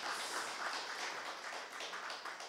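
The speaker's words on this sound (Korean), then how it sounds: "우리 나영주 회장님에게 박수 한번 쳐주시기 바랍니다" An audience claps at a New Year residents' town meeting in Bugok-dong, with dense, steady applause filling the room throughout.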